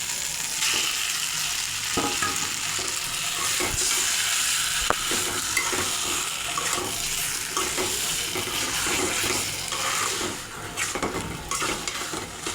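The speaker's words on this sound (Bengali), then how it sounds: "বাঁধাকপিটা আলু মশলার সঙ্গে মিশিয়ে নেব।" Fried cabbage is stirred into potato masala in a pan, with continuous sizzling and repeated scraping strokes from a spatula throughout.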